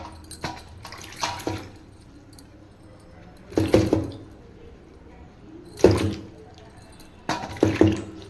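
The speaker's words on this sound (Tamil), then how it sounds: "இதே மாதிரி ரெண்டு டைம் தண்ணியில் நம்ம வாஷ் பண்ணோம்னா காளானை க்ளீன் பண்ணி எடுத்துக்கலாம்" Mushrooms being washed by hand in a bowl of water while cooking mushroom biryani, heard as four separate bursts of sloshing and squishing, close and moderately loud, with quiet pauses between them.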